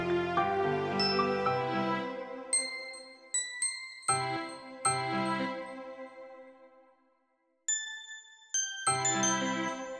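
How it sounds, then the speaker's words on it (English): Synthesized bell tones in a cheesy love-song composition made in FL Studio 20, ringing with bright, sustained chimes over piano-like chords, in several separate struck phrases with a brief silence near the end. "I don't know if I can still get some bells in."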